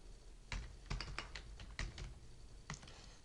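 Keys clatter on a computer keyboard as text is typed in MS Word, a short burst of quick, uneven clicks close to the microphone, fairly quiet, with no one talking.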